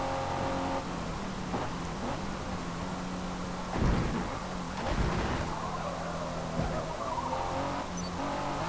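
A race car driven around a circuit in Forza Motorsport 6, its engine droning steadily with several rising rev surges and gear changes, close and continuous.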